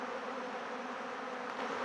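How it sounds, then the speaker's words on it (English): Honeybees robbing each other at the hives make a dense, continuous buzz of many wings, a steady droning swarm heard close by with no voices over it. "All the bees are trying to rob each other."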